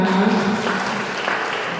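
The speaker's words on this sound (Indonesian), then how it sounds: "Bisa tepuk tangan." Brief burst of applause, steady clapping from a group throughout the short moment, fairly close and loud.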